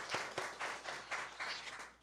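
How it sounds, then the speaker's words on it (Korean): A church congregation applauds the choir after a hymn in a Korean worship service, producing a short, moderately quiet patter of clapping that swells in uneven bursts. "우리 찬양대에게는 격려의 박수 우리 함께 올려드릴까요?"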